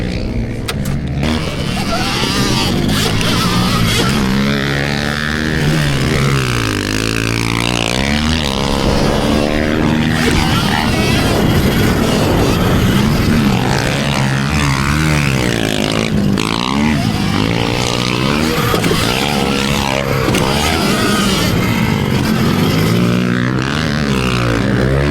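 An Ultra B pit bike rides around a track, its small single-cylinder engine buzzing loud and close throughout, revs rising and falling repeatedly through gear changes and throttle blips with no pause.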